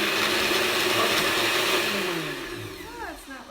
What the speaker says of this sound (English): there's actually a puree button on my blender, but anything that will just mix it up